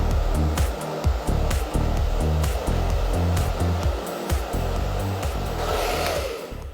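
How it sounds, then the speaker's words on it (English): A hair dryer roars steadily while the front section of hair is wrap-dried with a brush, its airflow whoosh pulsing and shifting as it moves, loud and close with no talking. "And now I'm going to come through and wrap dry the front section,"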